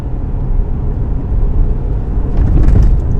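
Subaru Forester driving over a bumpy road after a suspension install, a steady low rumble of road and engine noise from inside the cabin, loud and continuous, swelling slightly near the end.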